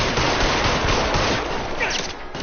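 Gunfire in the video game LA Noire is a dense, continuous rattle of rapid shots, loud and close.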